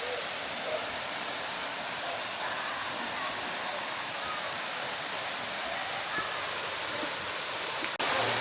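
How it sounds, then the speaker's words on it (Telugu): The Juan Diego waterfalls in El Yunque rainforest give off a steady, dense rushing roar that is broad and unbroken, heard close and alone throughout. "సో ఫైనలీ హువాన్ డియేగో వాటర్ ఫాల్స్కి వచ్చాము"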